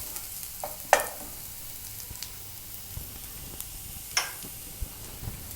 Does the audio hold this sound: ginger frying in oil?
yes